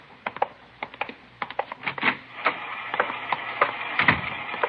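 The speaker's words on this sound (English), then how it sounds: "She's running all the cards on previous shooting through the IBM machine." An IBM punch card machine sorts a deck of cards, producing a steady run of rapid mechanical clicks and clatters, close and moderately loud, without pause.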